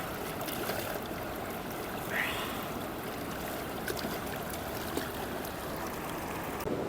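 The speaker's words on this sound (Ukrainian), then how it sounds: "Прямо біля водоспаду." Steady rushing water from a waterfall at Dovbush Rocks, Ukraine, fills the whole clip, a constant broadband roar with no pauses.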